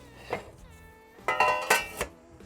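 A cast iron lid set down onto a pot of no-knead bread inside a wood fired oven, giving a couple of sharp metallic clinks and clanks close by, with no talking.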